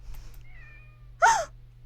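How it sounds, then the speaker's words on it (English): A black cat in the horror game Otogirisou gives a single short, loud meow near the end, after a quiet stretch with a faint tonal hum in the background. "Oh! It's a cat!"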